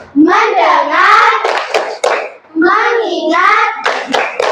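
Young pupils in a classroom chant a clap routine together, their loud unison singing broken by short rounds of rhythmic hand claps close by.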